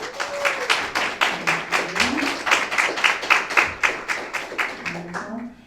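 An audience at a music event claps in steady, rhythmic bursts that fill the room, with a voice briefly heard over the clapping.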